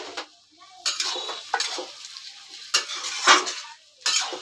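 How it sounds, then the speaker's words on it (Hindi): Fresh green peas being stir-fried in a pan: bursts of spatula scraping and clatter over a low, steady sizzle, coming in several separate strokes with short pauses between them. "मटर को भी 2-3 मिनट तक भून लेंगे।"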